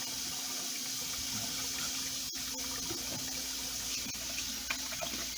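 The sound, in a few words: water running from tap while washing hands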